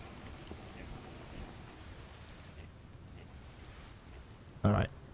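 Steady rain falls in the survival game Atlas on an island beach, a constant soft hiss that thins partway through before a brief louder thump near the end.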